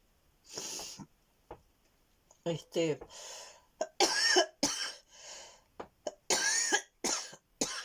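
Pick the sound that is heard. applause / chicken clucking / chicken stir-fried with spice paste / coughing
coughing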